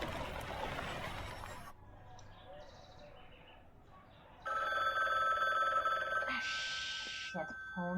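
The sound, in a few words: telephone ringing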